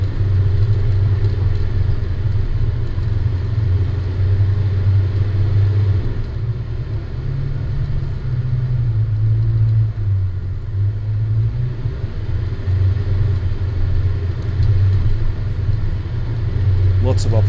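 A car climbing a rocky off-road track on Mt Sarah toward Crooked River, its engine a steady low rumble throughout with slight shifts in pitch, close and loud.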